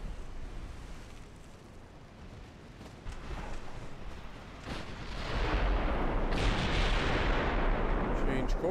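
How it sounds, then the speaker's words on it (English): Torpedoes exploding near a warship in the naval battle game Ultimate Admiral Dreadnoughts, heard as a continuous roaring rumble of blasts that swells louder partway through and stays heavy to the end, with no speech. "Hear the amount of torpedoes these guys are firing, exploding off my left side here."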